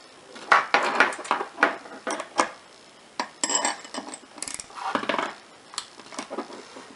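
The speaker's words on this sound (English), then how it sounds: "I'm going to go ahead and tighten this nut up onto the bolt." Nut tightened onto a bolt with a 9/16 wrench during a serpentine belt job on a 2003 Ford Focus 2.0L SPI, heard as a close run of sharp metallic clicks, clanks and ratcheting taps in irregular bursts.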